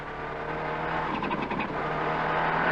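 Engine of a Cosworth-powered Ford Escort rally car driving on a mountain rally stage, a steady sustained drone with a slight rise in intensity, heard continuously without talk.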